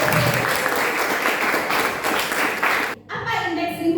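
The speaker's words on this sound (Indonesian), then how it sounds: "Tepuk tangan untuk kita semua." A classroom of students applauds together, a brisk burst of clapping with voices mixed in, breaking off abruptly before quieter sounds and talk follow.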